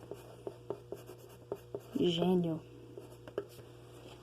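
Marker or chalk strokes tapping and scratching on a classroom board in a regular series of short, distinct ticks, with a brief burst of a teacher's speech in the middle.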